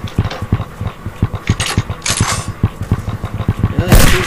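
Rapid gunfire from Civil War infantry volleys in the video game Gettysburg Armored Warfare, a steady, dense patter of shots with bursts of louder blasts and mechanical noise, no talk.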